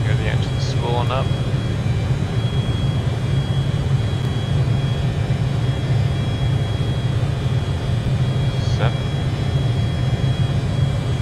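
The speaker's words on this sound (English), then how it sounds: "Hear the engine spooling up." A fixed-wing airplane's engine in Microsoft Flight Simulator hums at a steady, loud drone during a slow turn with flaps deployed, with a few brief chirping tones and a voice speaking over it.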